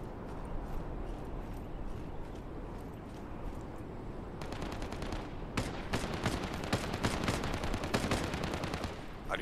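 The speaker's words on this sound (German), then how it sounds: "Die Schüsse hören sich ziemlich nah an." Rapid bursts of SKS rifle gunfire crackle close by in Lost Light, a dense stretch of repeated shots following a quieter, rumbling start.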